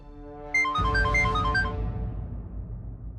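Phone ringtone as a call is placed, a melodic electronic chime sounding alone and fairly loud at close range, its tones fading out over a few seconds with no voices.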